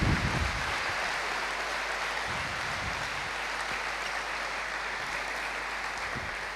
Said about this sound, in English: I'd like to give a round of applause to the girls.